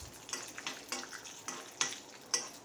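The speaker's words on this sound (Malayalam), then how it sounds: "ചെറിയ ഉള്ളി അരിഞ്ഞ് ഇത് നെയ്യിൽ വറവിടണം" Chopped shallots frying in ghee, with a quiet, steady sizzle broken by soft, regular clicks of stirring against the pan.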